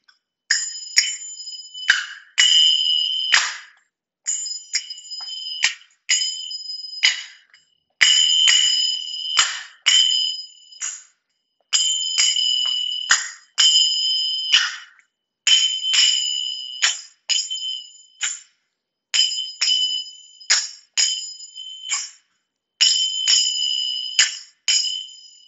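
Finger cymbals played during a lesson, giving bright ringing metallic chimes in repeated rhythmic groups of quick strikes with short gaps between phrases, close and clear with no voice.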